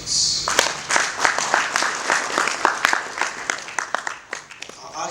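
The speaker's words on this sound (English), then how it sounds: "I would want to ask you to give him some applause for this" An audience at a CEOs' forum claps to welcome a guest speaker, a close, steady patter of many hands with individual sharp claps standing out, running throughout at moderate loudness.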